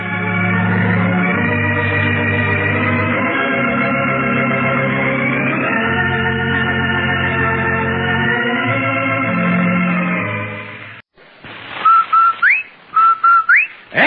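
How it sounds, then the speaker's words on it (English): A sustained whistled melody from an old radio advertisement for Rinso White laundry soap plays loudly for about ten seconds, followed by a few short, rising whistle calls. "That's the Rinso White whistle."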